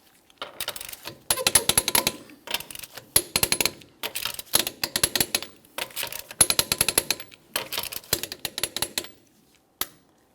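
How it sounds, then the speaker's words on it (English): Rapid bursts of clicking and ratcheting from a torque wrench tightening lug nuts on a Mitsubishi Lancer wheel, repeated in several separate runs with short pauses between, close and fairly faint. "We're going to be torquing each one of our lug nuts in a crisscross manner to that 80 foot-pounds."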